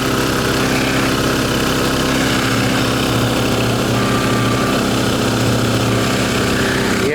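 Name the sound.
small engine running, exhaust heard up close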